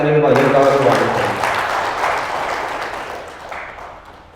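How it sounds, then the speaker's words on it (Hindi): Audience applause welcoming hosts at a community gathering, a broad burst of clapping that starts strong and slowly thins out over a few seconds, with no talk over it. "एक बार तालियां बजाकर इन भाइयों का स्वागत करें"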